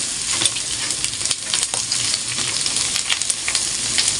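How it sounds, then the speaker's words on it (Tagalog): Onions frying in a pan alongside bacon for a homemade samgyupsal meal, a steady close-up sizzle with crackling spits running throughout, with no talking. "Lagyan na po natin yung ating sibuyas."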